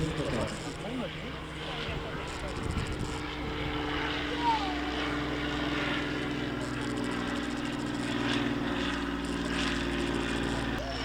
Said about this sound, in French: Regardez, mesdames et messieurs, je vous laisse profiter du Breguet 14.